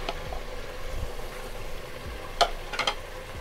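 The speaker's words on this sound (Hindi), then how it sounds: "ये देखें अब हम इसमें सब्जियां मिक्स करेंगे।" Carrots and vegetables are mixed into masala and ghee in a pan, giving a soft sizzle with a few sharp clinks of a utensil against metal near the end.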